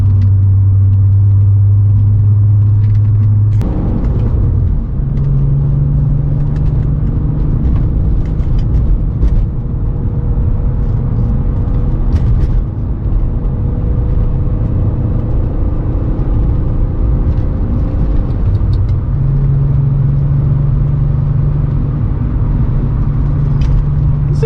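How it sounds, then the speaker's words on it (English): A Nissan Skyline R32 on Castor Air MK4 air suspension drives along with a loud, steady engine drone and road rumble, the engine note rising and settling as it moves. "there's my first drive in the R32"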